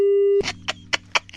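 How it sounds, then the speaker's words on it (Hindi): A steady telephone tone cuts off as a call on a comedy prank radio show drops, followed by short bursts of a voice speaking in the background. "डेजावू गोयल जी का फोन कट गया है"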